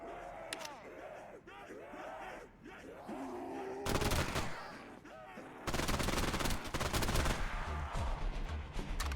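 Gunfire in a VRChat zombies game, with rapid bursts of shots from weapons such as an automatic gun, loud and dense in the second half, over a busy background.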